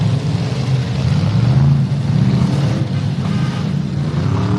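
Street stock race cars circling a racetrack, a loud continuous engine drone with low rumbling tones that rise and fall slightly as the cars run, no voices over it.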